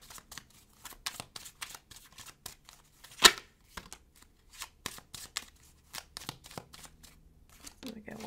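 Tarot cards handled and shuffled close up, a quick run of crisp papery riffles and soft slaps with one sharper snap partway through, while someone speaks over them.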